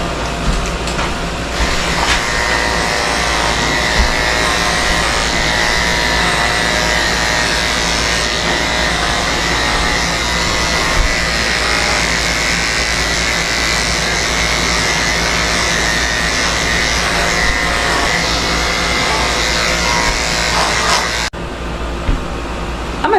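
An electric clipper shaves a Cocker Spaniel's coat with a loud, steady motor buzz that runs continuously for most of the clip, close by, then cuts off abruptly near the end.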